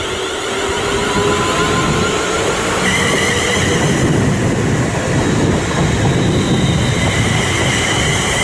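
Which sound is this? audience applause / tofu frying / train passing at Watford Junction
train passing at Watford Junction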